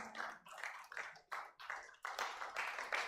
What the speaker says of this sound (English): Please, let's keep clapping until he gets to the stage.